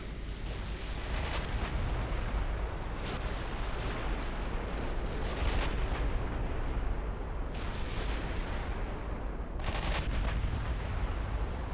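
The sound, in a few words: naval guns firing in the video game Ultimate Admiral Dreadnoughts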